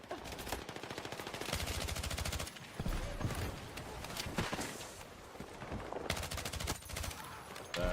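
SMG gunfire in Battlefield 6, rapid automatic bursts that repeat over and over through a busy, loud battle mix, with other shots and game noise around them.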